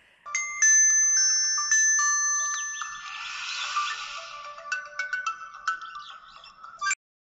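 A mobile phone ringtone plays a bright electronic melody that chimes steadily for about seven seconds, close and clear, then cuts off abruptly, with no voices over it.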